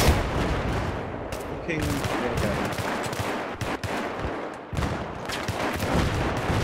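Heavy, continuous Battlefield 3 gunfire crackles throughout, with rapid shots and a few sharp louder cracks, while a player briefly curses over the noise.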